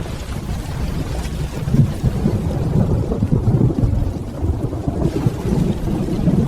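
Thunderstorm with steady rain, a dense low rumble of thunder rolling under continuous heavy rainfall, loud and close, with no voices.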